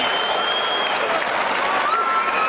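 Ringside crowd at a boxing match between John Ryder and Callum Smith applauding loudly and steadily throughout, a dense wash of clapping with whistles and cheers mixed in.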